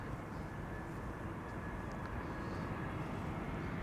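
An EasyJet airliner arriving from Edinburgh at Schiphol gives a steady, broad jet roar at a distance with a thin high engine whine, continuous and even throughout.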